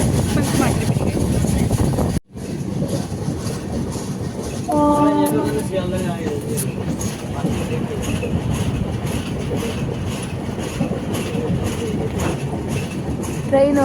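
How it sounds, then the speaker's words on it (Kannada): A moving passenger train on a rainy route toward Kolkata, heard from on board. A steady loud rumble carries rhythmic wheel clatter throughout, with a brief drop near the start, and voices are faintly present. "ಟ್ರೈನ್ ಹೋಗ್ತಾ ಇದೆ."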